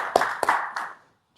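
A church congregation claps at the close of a prayer during a Wednesday service, a few brief scattered claps under a sustained organ or hum that fades out.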